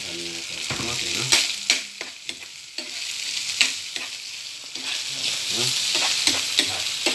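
Chicken fries in oil in a pan, a close bright sizzle with crackles and stirring scrapes, while a voice speaks briefly at one point.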